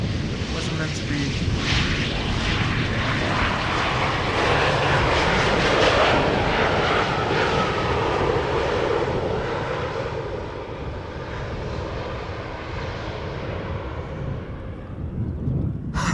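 A jet airliner landing at Schiphol Airport, its engines roaring loud and broadband, steady, then slowly easing as the plane rolls out, with wind buffeting the microphone and voices talking over it.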